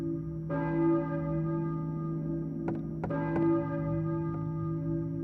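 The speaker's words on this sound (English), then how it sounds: "I hear a church bell, maybe? Who is ringing the bell?" A tolling church bell in the PS1 game Silent Hill rings out in long, layered hums, struck again about every two and a half seconds, with a few small clicks between the strikes.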